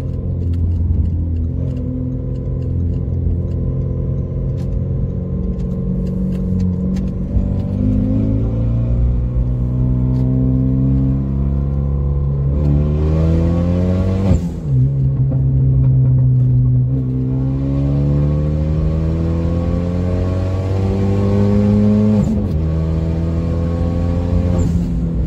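Renault Megane RS Cup engine heard from inside while driving, a loud, continuous drone climbing in pitch through repeated accelerations, with gear changes and a brief drop midway.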